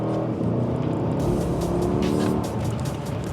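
Mercedes CLS 63 AMG accelerating hard, a deep rising engine roar heard from inside the car, loud and sustained with a brief shift in tone midway.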